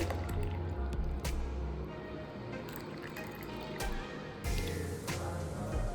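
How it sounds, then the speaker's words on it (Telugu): Thick milk poured into Irani tea, a soft, close liquid pour with faint squishy drips, steady and low over a quiet background hum. "మంచి చిక్కటి పాలు వేసుకుందామండి."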